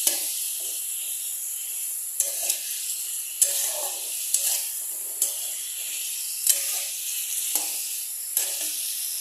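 Spices and vegetables fry in a pan for a small-fish curry, giving a steady close hiss of sizzling oil with a few sharp stirring clicks spaced through it.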